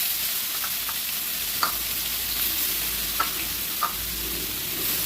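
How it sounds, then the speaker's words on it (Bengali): Ground spice paste sizzles in hot oil with prawns while being stirred, a constant loud frying hiss broken by a few soft scraping clinks of the spoon against the pan, heard up close. "তারপর দিব বাটা মশলা।"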